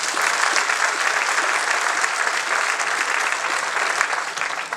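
An audience claps steadily for a young fanfare musician, a dense, even wash of applause that holds loud and continuous throughout.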